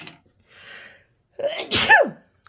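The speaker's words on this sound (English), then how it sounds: "Big sneeze." A single loud, close sneeze bursts out alone after a quiet intake of breath, during a stamping and water-painting craft demonstration.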